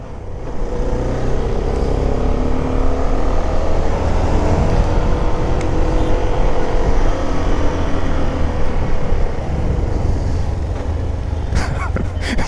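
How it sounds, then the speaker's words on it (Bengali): A CF300SR 300cc motorcycle rides through Dhaka street traffic, with a loud, steady engine and wind roar that continues throughout and a few sharp clicks near the end. "because it's A three hundred CC motorcycle so এটা চার পাঁচ হাজার আরপিএম চালাইলেই হয়"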